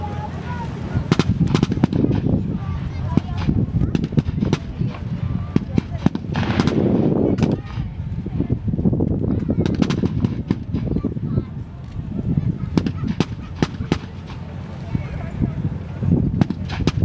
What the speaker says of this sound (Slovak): Cieľom tejto manévru je zabezpečenia palbou, tak aby znemožnili zamieriť svojich spolubojovníkov, ktorí postupujú dopredu.